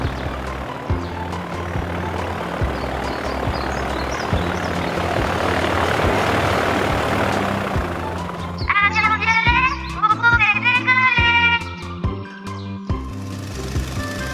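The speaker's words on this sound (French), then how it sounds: "L'avion rouge s'éloigne de la piste." A cartoon red airplane taxis away from the runway, a droning propeller engine rumbling steadily before fading, followed by chirpy cartoon sound effects and music-like tones.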